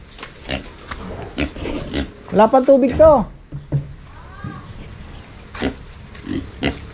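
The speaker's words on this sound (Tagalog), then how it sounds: "Oh, nandito na yung baboy," A farm pig grunts and squeals close by in several short bursts, mixed with knocking and a person talking in between.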